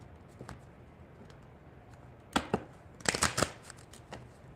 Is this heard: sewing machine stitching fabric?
no